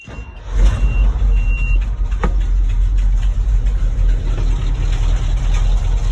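A carbureted farm machine engine, choked, catches at once and settles into a steady, loud, close rumbling run that continues throughout, with no talk over it.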